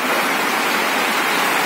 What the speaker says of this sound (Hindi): इतनी तेज बारिश है कि कुछ दिख भी नहीं रहा है सामने का